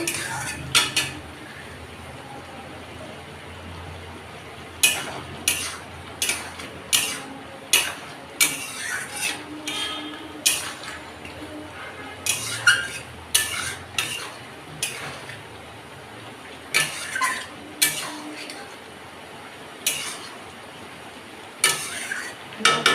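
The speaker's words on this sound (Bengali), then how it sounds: "এবার আবার ঢাকনাটা খুলে দিচ্ছি কতটা কতটা কষলো" A lid comes off a cooking pot and a spoon stirs a thick curry, producing repeated sharp metallic clanks and scrapes at an irregular pace, close and clear over a quiet background.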